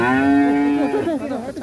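Large jumbo cattle bellow loudly while coming down off a truck, a long drawn-out moo with a steady tone that wavers and breaks up toward the end, close and alone with no talk.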